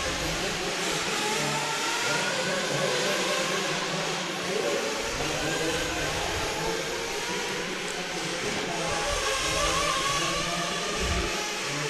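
Several RC race cars accelerate around a track during a 2024 SIC qualifying round, their high-pitched motors buzzing and whining steadily and loudly throughout, with a faint voice briefly mixed in beneath the engine noise.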